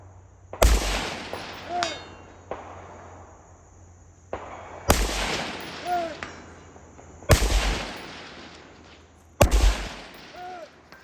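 Rifle shots ring out at a steel-target shooting match, four loud cracks spaced a few seconds apart, each followed by a faint metallic ping of bullets striking steel plates at distances from 100 to 400 yards.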